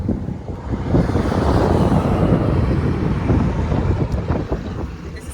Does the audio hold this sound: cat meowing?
no